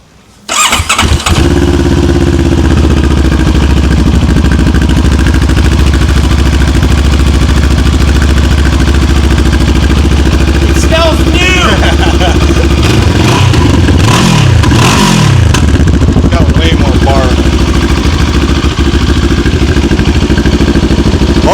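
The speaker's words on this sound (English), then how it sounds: "Oh, I hear some injectors firing up." 2026 Moto Morini X-Cape 700 motorcycle starting with a burst of cranking, then settling into a loud, steady, close idle that carries through to the end with a few small swells in engine tone.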